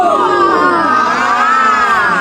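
A crowd cheering sound effect: a short, loud burst of many shouting and whooping voices that stays level for about two seconds.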